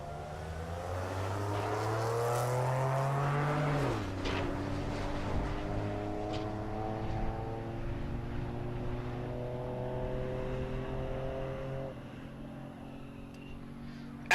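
Drag race cars launching down a dragstrip at a Great Bend, Kansas race week, engines revving hard and rising in pitch as they pull away, then receding into a distant drone.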